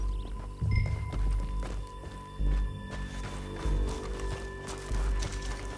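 Horse hooves clip-clop steadily on the ground in Red Dead Redemption 2, a rhythmic run of close, dull thuds over a faint tonal ambient background, with no voices.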